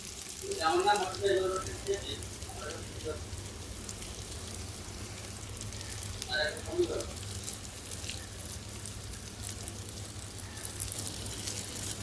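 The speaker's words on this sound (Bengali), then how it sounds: "এখন বেগুনগুলো ভেজে নিব" Eggplant pieces fry in hot oil, giving a steady, fairly faint hiss and crackle like light rain. A voice speaks briefly now and then over the frying.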